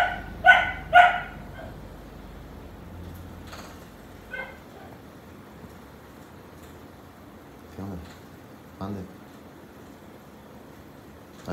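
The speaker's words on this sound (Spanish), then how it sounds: "si te volteas te empieza a ladrar" A dog barks twice in quick succession, near and loud, then a few softer scattered yips and whimpers follow in a quiet room.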